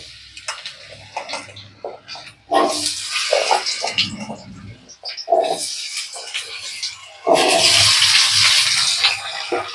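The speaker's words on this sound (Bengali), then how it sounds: "ফোড়নটা ফুটে গেছে, এখন দিয়ে দেব আলুগুলোকে।" Potatoes tumble into hot oil seasoned with a five-spice tempering for aloo posto, setting off loud hissing surges in three bursts, each fading to a softer spatter.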